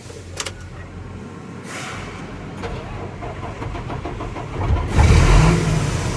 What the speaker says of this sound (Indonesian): kita sudah start, kondisinya mesinnya kedengaran halus, tidak ada suara yang kasar